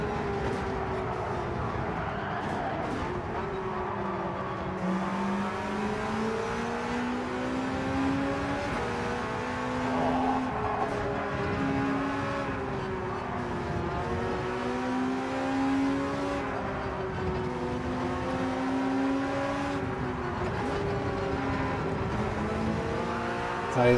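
A Volkswagen Beetle races in a Gran Turismo 7 daily race. Its engine drones steadily and fairly close, pitch climbing and dropping repeatedly as it accelerates and shifts through gears over the full stretch, with no talk.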